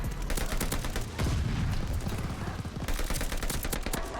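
Rapid automatic fire from an STG44 rifle in Call of Duty: Vanguard, dense continuous bursts of loud close shots with a brief lull midway before the firing resumes.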